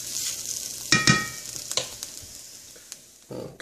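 Onions fry in olive oil in a pan while a utensil stirs them, with a few sharp scraping clicks over a soft, fading sizzle and no talking.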